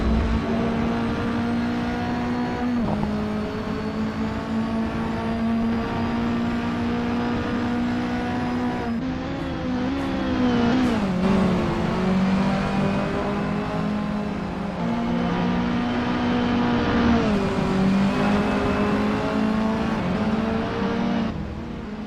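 Mini Cooper JCW race cars lapping Lime Rock Park in the Assetto Corsa racing game, a steady loud engine drone that rises and falls as the cars rev through the West Bend and Big Bend.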